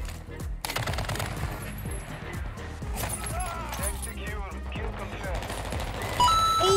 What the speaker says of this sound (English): No, I got shot from the side